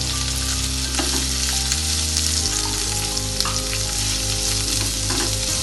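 Onions sauté in a pan with chillies for a savoury kozhukattai filling, giving a loud, close, continuous sizzle with light crackles and occasional stirring scrapes, with no speech.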